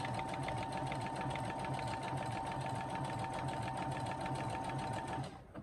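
Brother SE computerized sewing machine stitching steadily with a fast, even needle rhythm and motor hum, loud and close, running alone for about five seconds before stopping abruptly.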